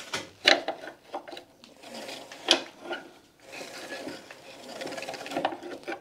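Hand crank turning over a Citroën Mehari/2CV engine through a worn, split crank fitting, giving scraping, ratcheting mechanical rasps in irregular bursts with a few louder clunks, close and fairly quiet.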